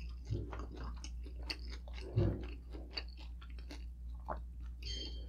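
Close, moist chewing of Filipino grilled pork intestines (isaw), with soft repeated bites and crunchy mastication in an uneven rhythm over a steady low hum, without any speech.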